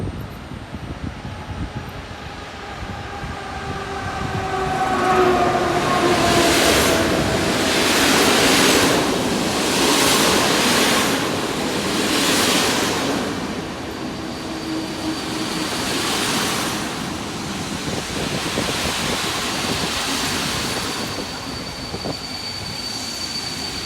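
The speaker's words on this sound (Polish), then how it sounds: "I wjeżdża również Intercity Piast." The Intercity Piast passenger train rolls into Opole station with a loud, rising and falling rumble of wheels on rails and faint metallic squeals, heard alone with no talking.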